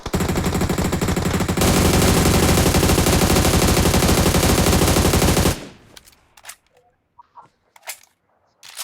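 Sustained rapid automatic gunfire from a PUBG Mobile match, loud and continuous for several seconds, then cutting off to quieter scattered game sounds and brief clicks.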